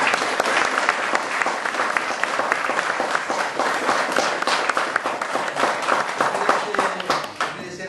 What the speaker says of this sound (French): je voudrais que vous les applaudissiez très fort